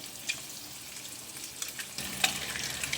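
Eggs frying in oil seasoned with salt, turmeric and Kashmiri chilli give a quiet, steady sizzle with a few faint utensil clicks and scrapes, growing slightly busier toward the end.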